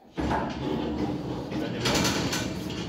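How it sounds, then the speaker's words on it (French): The sliding door of an HDX 1100 Versatile cattle restraint cage rolls open with a sudden, loud metallic rumble and grinding that carries on steadily for nearly three seconds. "Pour laisser entrer les animaux, c'est une porte coulissante."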